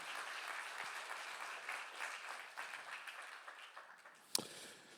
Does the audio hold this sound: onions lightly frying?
no